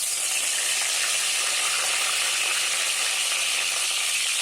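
Whole cloves, peppercorns, cardamom, bay leaf and cinnamon sizzle in hot mustard oil in a heated wok, a steady, loud, close hiss with no break for four and a half seconds.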